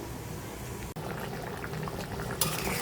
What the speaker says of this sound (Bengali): এই তো মাংসটা কিন্তু আমার বলক চলে আসছে